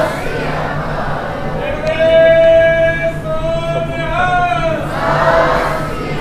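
Sikh congregation answering with the jaikara war cry, a large crowd's chant swelling in two loud surges between moments of murmur, voices overlapping close by.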